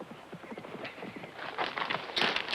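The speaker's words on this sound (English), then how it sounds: "Get off that horse." Horse hooves clip-clop in a steady rapid rhythm at close range, growing louder toward the end, in a Western setting.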